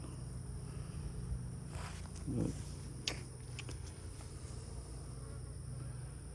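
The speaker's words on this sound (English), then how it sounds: "See, these bees are pretty calm." Honey bees, worker and nurse bees, hum in a steady, close buzz at an open hive during an inspection, with a few soft knocks and light handling sounds over the drone.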